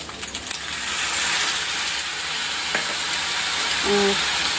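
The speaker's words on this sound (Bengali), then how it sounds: "এটাতে পাস্তাটা ভাজা ভাজা হয়ে গেছে, এখন দই দিয়ে দেবো।" Pasta fries in a pan with yogurt being added, a steady hiss of frying broken by a light clink near the middle and a brief tone near the end.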